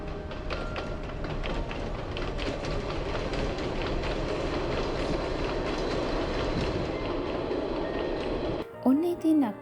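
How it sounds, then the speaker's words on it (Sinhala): The Badulla train runs past Ambewela reservoir with a steady rumble and rhythmic clickety-clack of wheels on rails, loud and close throughout before cutting off abruptly near the end. "ඔන්න ඉතින් අපි අඹේවැල වැව ළඟ නැවතිලා බදුළු කෝච්චිය යනවත් බැලුවා."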